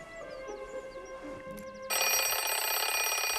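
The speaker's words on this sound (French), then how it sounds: "pour permettre à son mari d'entendre le réveil sonner" An alarm clock rings in a French-dubbed American film, starting with a soft melodic tone and then switching abruptly to a loud, continuous electronic ring.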